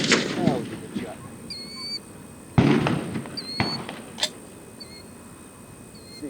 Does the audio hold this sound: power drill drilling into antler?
no